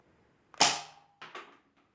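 A modded toy foam blaster fires two shots, each a sharp close snap with a short ringing tail, the second softer and followed by a faint click.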